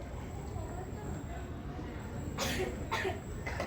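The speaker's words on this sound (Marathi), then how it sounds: "किती खोकला येतोय मला, थांबतच नाही." A person coughs a few short, close bursts near the end of a quiet stretch of room tone during a stage play.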